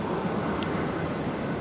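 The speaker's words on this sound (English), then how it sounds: "Across the road, oh, trains just come through." A train rumbles past nearby in Nong Chok, Bangkok, a dense continuous roar of wheels on rails with a brief high squeal partway through.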